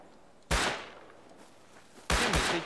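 Gunfire in the video game Rust: two separate loud blasts, the first a single sharp report with a decaying tail and the second a rapid pair of close shots, with quiet game ambience between them.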